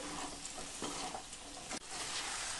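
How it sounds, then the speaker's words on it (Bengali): Fried vegetables are tossed with spices in oil for a navratna curry, giving a dense, continuous sizzle with a few scraping stirs, close and steady. "সবজিগুলো দেওয়ার পর মশলার সাথে ভালো করে মাখিয়ে কষিয়ে নেব।"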